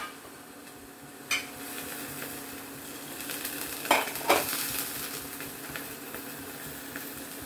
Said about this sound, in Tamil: இவங்க தோசைக்கல்லையே ஊற்றி விடுறாங்க.